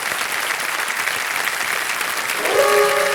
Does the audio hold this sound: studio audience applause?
yes